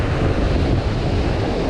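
Ocean surf breaks along a beach during surf fishing, a steady loud rumbling wash with wind buffeting the microphone and no talking.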